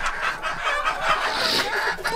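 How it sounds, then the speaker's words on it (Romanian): A hen clucks in a short run of soft, throaty calls close by in a farmyard setting, with other fowl murmuring faintly around her and no talk. "uite și găina asta."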